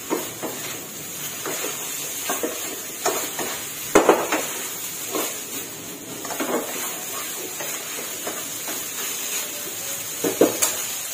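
Shrimp fried rice with spring onions stirred in a pan: a steady sizzle of frying throughout, broken by scattered sharp scrapes and clinks of a utensil against the pan, close and moderately loud, with no talking.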